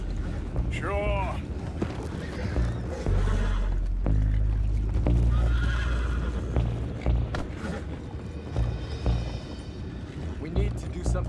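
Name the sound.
horses neighing in Red Dead Redemption 2 video game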